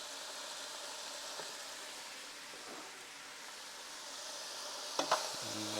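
Short ribs, stew meat and onion cooking in a pot give a steady, soft sizzle throughout, with a couple of faint clinks near the end.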